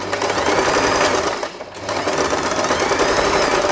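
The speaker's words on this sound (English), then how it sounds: "I will sew this line, not the first one that we draw" A sewing machine stitches fabric for a puffy scrunchie, its close, loud, steady whirring buzz pausing briefly midway before running on.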